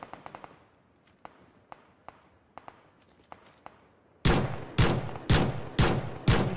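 Enemy gunfire in a PlayerUnknown's Battlegrounds match: a few faint distant shots and scattered single cracks, then five loud, evenly spaced close bursts booming in a steady rhythm.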